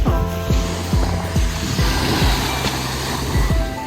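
Ocean waves wash onto a beach on Cape Cod near Brewster, a steady broad rush of surf with low rumbles recurring roughly every half second, fairly loud and close, with no talking.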